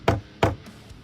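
A diecast car coated in citrus paint stripper is knocked twice against a hard surface, two sharp close knocks a third of a second apart, followed by fainter taps.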